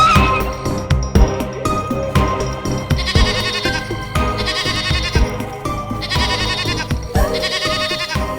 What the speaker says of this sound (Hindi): यहाँ हमने बकरा रख दिया है शेर के लिए।